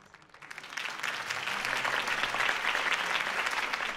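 Crowd applause greets a mayoral campaign speech in a Batman video game, swelling from a quiet start into a full, sustained ovation that stays strong to the end.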